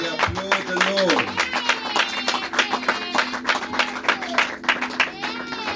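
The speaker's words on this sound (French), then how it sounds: "Can we applaud the Lord?" A church congregation claps in a steady rhythm at a prayer service, many hands beating close together, with voices and speech running under the clapping throughout.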